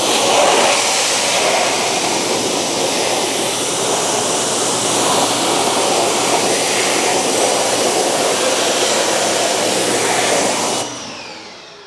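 Water spray from a hose or pressure washer rinsing purple wheel cleaner off a neglected car wheel: a loud, steady hiss and rush that runs unbroken for about eleven seconds, then cuts off abruptly.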